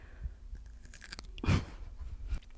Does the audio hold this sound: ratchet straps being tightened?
no